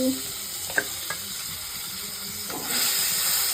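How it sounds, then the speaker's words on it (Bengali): Pieces of fish fry steadily in a pan with oil, giving a constant close sizzle and hiss broken by a couple of faint taps, growing a little louder toward the end. "মাছটা আস্তে আস্তে ভেজে নিচ্ছি"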